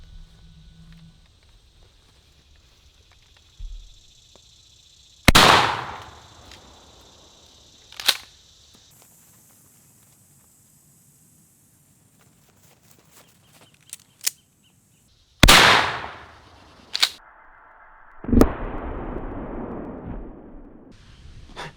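A 12 gauge shotgun fires double-aught buckshot at a target outdoors: two loud, sharp blasts about ten seconds apart, separated by quieter clicks, knocks and handling noises.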